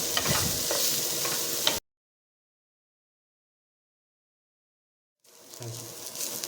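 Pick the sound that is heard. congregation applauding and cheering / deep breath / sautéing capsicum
sautéing capsicum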